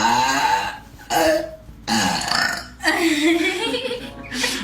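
A woman lets out a series of long, loud burps close up, several in a row with short breaks between them, the pitch sliding from high down to a deeper belly rumble.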